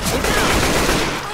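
Rapid, continuous automatic gunfire in the zombie shooter Left 4 Dead 2 rattles loudly and densely throughout, a sustained barrage of overlapping shots.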